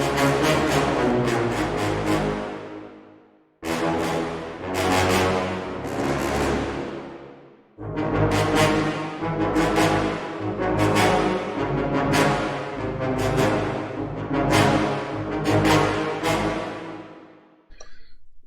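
A music passage heavily drenched in FabFilter Pro-R 2 reverb set to 50%, with loud, dense, sustained sections whose long tails fill each short gap before the music resumes.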